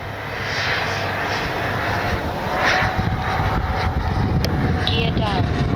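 RC twin 64mm EDF MiG-29 jet model flying by with its gear down, a steady loud ducted-fan whine that swells as it passes, with someone talking over it.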